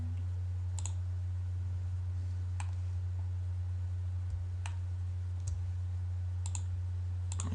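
A computer mouse gives a handful of sparse, light clicks while the Control key is held, set over a steady low electrical hum.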